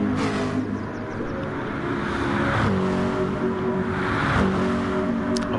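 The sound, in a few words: racing cars driving through Eau Rouge at Spa, video game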